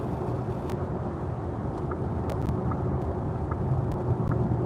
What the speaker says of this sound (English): Isn't it loud tire noise?